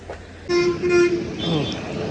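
A car horn gives a short double toot as a car pulls up, the two close honks sounding nearby, with voices talking at the same time.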